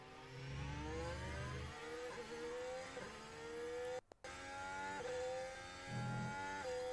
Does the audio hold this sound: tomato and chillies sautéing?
no